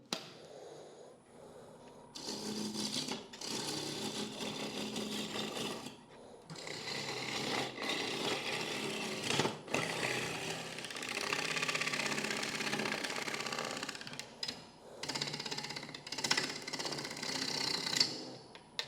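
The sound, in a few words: wood lathe turning, tool cutting wood away for tenon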